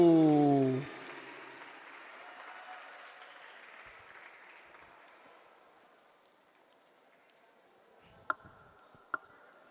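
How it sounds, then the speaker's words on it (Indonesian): Audience applause at a new-student orientation in an Islamic boarding school, a brief loud burst that cuts off within the first second, followed by quiet room noise and a couple of faint taps. "Tepuk tangan dong yang udah berani maju."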